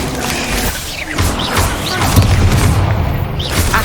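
A Bombarda spell explosion in Hogwarts Legacy, a loud booming blast with crashing debris and rumble that swells and lingers, alongside other clanking game effects.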